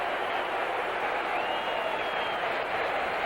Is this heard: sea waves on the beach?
no